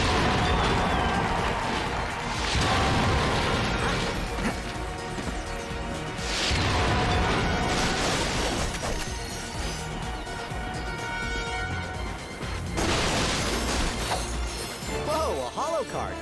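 Crates are smashed in the Ratchet & Clank video game: several sharp crashing bursts break through, mixed with game effects, music and a talking voice.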